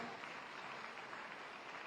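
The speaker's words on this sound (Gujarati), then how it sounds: "એકવાર જોરદાર હાથ તાળીના નાદથી આપણે સાહેબને વધાવી રહ્યા છીએ" An audience applauds at the opening ceremony of the 54th Senior National Women's Handball Championship 2025 in Bhuj, with steady, dense clapping that stays fairly soft throughout.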